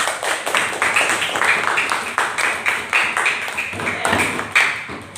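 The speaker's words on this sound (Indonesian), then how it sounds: "tepuk tangan untuk semuanya" A classroom of children claps together in a quick, steady rhythm, loud and close, with the claps falling in regular beats throughout.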